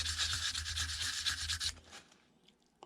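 Hand sanding of a metal magneto part from a John Deere B engine rebuild with 150 grit paper: steady close rasping strokes for under two seconds, then stopping into quiet with a small click.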